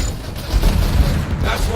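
Gunfire aimed at enemy turrets in the video game Anthem, with dense booming shots and blasts running continuously through a short burst of combat and a voice talking over it.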